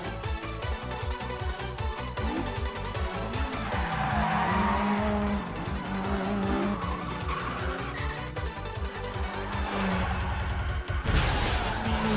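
A tuned racing car from a street-racing anime screams at very high revs, its engine note climbing and shifting over a steady background soundtrack, with tires squealing and skidding, a sharp burst of noise near the end.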